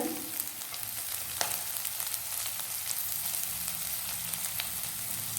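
Chopped beans and other vegetables stir-frying in a hot pan for paneer fried rice, a steady close sizzle and crackle with occasional sharp spits, no talking.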